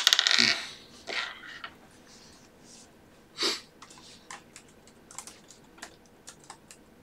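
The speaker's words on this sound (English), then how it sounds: "Otherwise, you're just rolling dice." Dice rolling during a tabletop role-playing game, a sharp close clatter at the start followed by a few scattered clicks and a brief breathy noise, with quiet gaps between.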